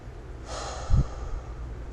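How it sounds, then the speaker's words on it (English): Slow, controlled breathing: one soft drawn-out exhale or sigh with a brief puff in the middle, close and quiet, with no talking. "Slow your breathing down."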